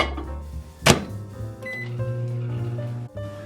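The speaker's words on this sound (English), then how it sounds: "I'm gonna pop mine in the microwave for about 4 or 5 minutes till it's wilted" Microwave oven running while spinach wilts inside, a steady low hum with a sharp clunk or beep near the start and a brief break near the end.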